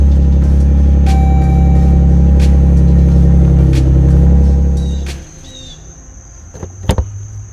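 A Dodge Journey engine runs with a loud, steady, close droning hum for about five seconds, then cuts off, leaving quiet with a few clicks and knocks.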